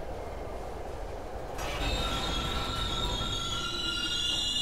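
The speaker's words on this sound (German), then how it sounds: "Oh nein, der Zug hält." Video game Silent Hill 3 train rolling with a steady low rumble and rising metallic wheel squeal, swelling louder partway through as the train brakes toward a halt; no talking.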